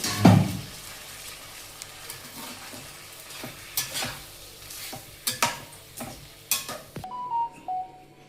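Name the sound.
sautéing taro and rohu fish masala in a pan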